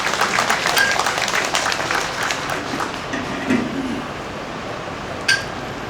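Applause fills a hall at a national memorial ceremony for COVID and vaccine victims as a former minister is called to the front: dense, continuous clapping that slowly thins, with a sharp clink near the end.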